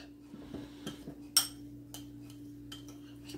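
A utensil stirs refrigerator pickle mixture in a container, giving faint scattered clinks and scrapes against the sides, quiet and sparse, with one sharper knock in the middle.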